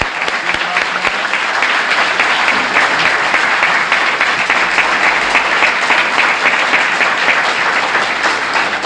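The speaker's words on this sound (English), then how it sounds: "Let's give them a round of applause" A large audience applauds loudly and steadily at a Nation of Islam dedication ceremony with Louis Farrakhan, the dense clapping sustained evenly for the whole stretch without letting up.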